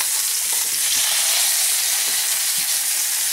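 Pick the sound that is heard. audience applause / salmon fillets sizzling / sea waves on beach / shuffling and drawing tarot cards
salmon fillets sizzling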